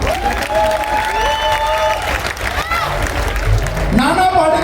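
Audience applause at a live Diwali Mela comedy night in Lucknow, a steady wash of clapping from a crowd that runs the whole stretch, mixed with voices and cheering and some louder bursts near the end.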